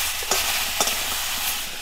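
Spice paste of ground cumin, ginger and green chilli frying in a pan for a pointed gourd stem curry, a steady close sizzle with a few brief stirring scrapes, no talking.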